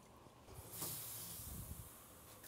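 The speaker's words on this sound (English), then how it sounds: "So they steam the pita." Pita bread steams on a barbecue in a faint, steady hiss with a brief louder burst of steam partway through, and no voices.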